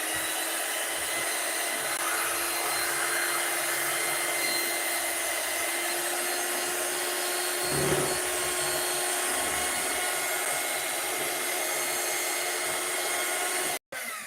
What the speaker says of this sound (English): So the electrical hand mixer also helps with popping up those cocoa powder bits